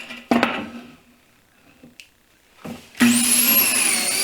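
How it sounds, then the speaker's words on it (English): Short bursts of a power drill boring pocket holes into wooden table rails, a couple of brief whirs separated by quiet, then a longer high-pitched spin at the end. "Here I'm going to drill some pocket holes"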